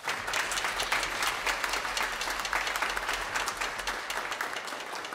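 A concert audience at an album premiere in Szczecin, after vocalists and a choir perform with a symphony orchestra, breaks into dense, sustained applause that holds steady throughout without fading.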